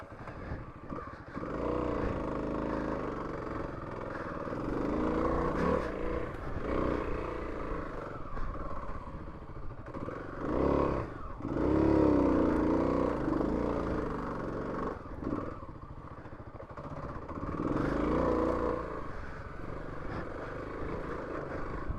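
A Kawasaki KLX300 dirt bike rides slowly along a trail at about six miles an hour, its engine putting steadily with rising and falling revs, close by and throughout.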